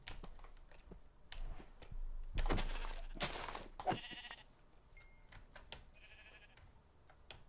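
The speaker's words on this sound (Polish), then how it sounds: "więcej owiec już nie będę zabijał, bo mam już wystarczająco dużo" Sheep in the Minecraft video game bleat in short synthetic cries as they are struck and killed, mixed with keyboard typing and mouse clicks, with no talk over them.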